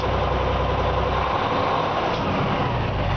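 A vehicle engine runs steadily at about 1,400 RPM, a constant, close, low rumbling drone with no change in rhythm and no talking.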